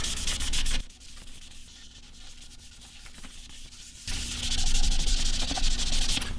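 A cloth rubs finish into the wood of a Gibson Les Paul guitar body, producing steady hissing, scrubbing strokes that grow louder and brighter partway through, close up with no talk.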